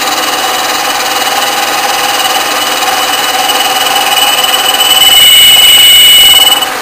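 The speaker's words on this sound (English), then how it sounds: "There we go with our climb milling cut, taking off about 25 thousandths." A Bridgeport milling machine takes a climb-milling cut about 25 thousandths deep on a part for a model steam engine, giving a steady, loud whine and hum with high tonal lines and no speech.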